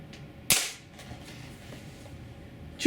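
A single sharp crack from a Daisy Avanti Champion 499 BB gun firing one shot, close and loud against a quiet room, followed by a short fading tail.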